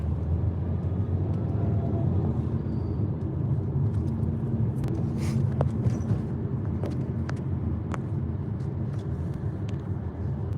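Steady low rumble of bumper-to-bumper traffic on the I-25 highway, heard from inside a moving vehicle, with a few faint clicks and knocks over the continuous road noise.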